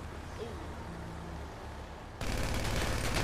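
Gunshots in a GTA role-play game: a steady background hum, then a sudden burst of loud rapid gunfire that keeps going to the end, with no talking.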